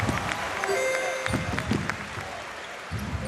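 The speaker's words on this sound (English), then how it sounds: "Was that some Spain fans clapping?" Scattered fan clapping at a EuroBasket semi-final between Germany and Finland, a thin patter of hands under steady arena crowd noise and a commentator's voice, with squeaks and bounces from the court.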